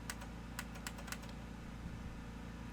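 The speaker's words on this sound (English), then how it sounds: "we're going to start typing" Quick bursts of typing on a computer keyboard, a handful of light clicking keystrokes in the first second, then only a faint low hum of room noise.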